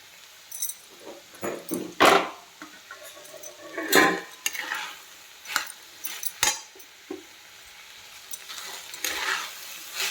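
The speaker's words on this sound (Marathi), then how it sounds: "आता या वेळेला आपल्याला वरतून आणखी थोडीशी कोथिंबीर टाकायची आहे आणि परतून घ्यायचं आहे।" Moth bean usal with fresh coriander is stirred in a pan, giving intermittent scraping and clinking of a spoon against metal over a soft sizzle, in irregular bursts with quiet gaps between them.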